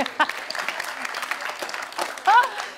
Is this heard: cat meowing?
no